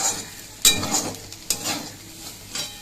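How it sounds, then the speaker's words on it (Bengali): Sliced potato and bitter gourd fry in a pan under a soft background sizzle, with a few sharp spatula scrapes and clanks from stirring. "আমি আলু করলাটা কেটে নিয়ে ভাজা বসিয়ে দিই"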